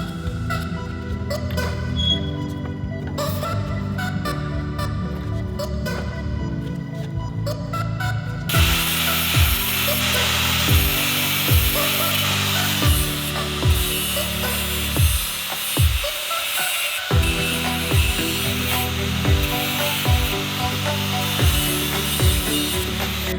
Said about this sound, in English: I'm going to grind off the broken bolts